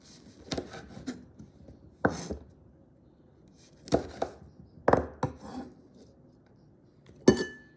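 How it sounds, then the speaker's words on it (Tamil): Green chilies chopped with a knife on a board for an eggplant coconut-milk curry: scattered sharp knocks and short bursts of cutting, close and fairly quiet, separated by pauses. "பச்சை மிளகாய் வெட்டுங்கோ."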